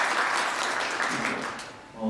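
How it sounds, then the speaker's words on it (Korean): Warm, sustained applause from a conference audience after a company presentation at an IT solution fair, heard close and even, fading toward the end as a voice begins speaking. "다시 한번 감사의 박수 부탁드리겠습니다"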